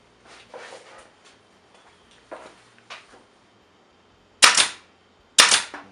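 A 23 gauge pin nailer fires tiny pin nails during a cabinet door repair with bondo, giving two sharp, loud snaps about a second apart after softer handling rustles and taps.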